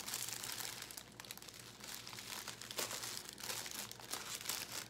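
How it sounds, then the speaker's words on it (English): Close crinkling and crackling of a piece of scotch tape being handled, with brief tearing-like rustles scattered through a steady stream of small plastic noises. "So I need another piece of scotch tape."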